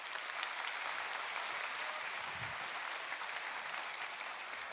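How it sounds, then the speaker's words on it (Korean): A lecture audience at a public natural science talk applauds, producing dense, steady clapping that fills the clip at an even level. "통찰 있는 강연 들려주신 안광석 교수님께 다시 한번 큰 박수 부탁드리겠습니다."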